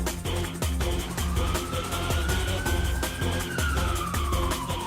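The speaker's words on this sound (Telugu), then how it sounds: "అంబులెన్స్ వచ్చిందేంటి?" An arriving ambulance's siren wails with a long rising and falling tone, partly buried under loud, pounding rhythmic music.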